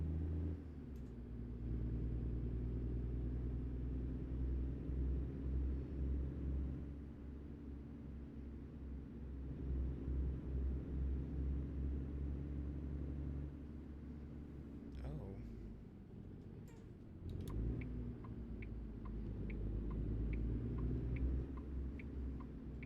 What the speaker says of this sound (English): May get a little harder to hear me as I'm kind of competing with the truck here.